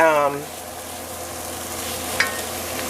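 Ingredients for a butternut squash coconut curry soup sizzle and fry in a pot, a soft, steady crackling hiss close by, with a brief stir or clink near the end.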